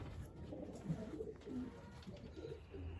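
Young racing pigeons coo softly inside their loft, low murmuring calls repeating unevenly amid faint rustling, close by and quiet, with no talking.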